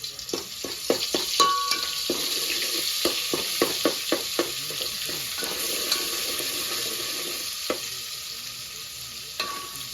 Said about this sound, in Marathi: तापलं का नाही तेल? तर लसूण टाकायचं.